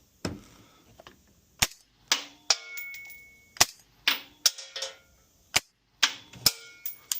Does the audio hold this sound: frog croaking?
no